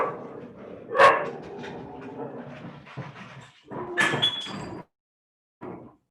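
Two female dogs bark indoors in a house, giving a few sharp, close barks mixed with whimpering and what sounds like a door moving, followed by a brief silence.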